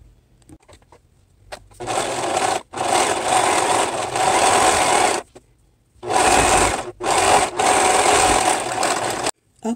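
Sewing machine stitching fabric for a crisscross headband, running in two long bursts of about three seconds each, separated by short pauses and a few brief starts and stops, loud and close with no talking.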